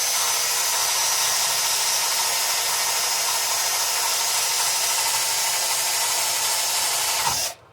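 A power drill sands an apple wood round-bottom bowl, giving a steady, loud, high whirring hiss that runs without pause for about seven seconds before cutting off abruptly.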